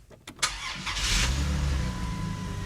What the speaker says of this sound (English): Next, start the engine.